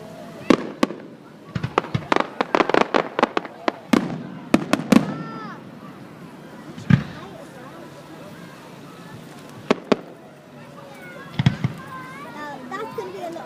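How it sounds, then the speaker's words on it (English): Bonfire night fireworks and firecrackers burst in rapid, loud cracks and bangs, clustered at first then spaced out, with crackling tails and distant booms; people talk and children's voices are heard between the explosions. "Now that's the fireworks."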